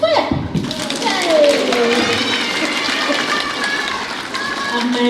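Children and an audience at a concert clap together while a child's cheer and other young voices rise over it, the applause continuing loudly for several seconds.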